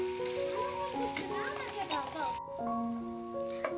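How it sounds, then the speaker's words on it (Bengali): Rohu fish fries in hot oil with a steady, close sizzle that runs throughout, partly masked by louder tonal background music. "আর এখন আমি এই যে মাছ ভেজে নিচ্ছি রুই মাছ"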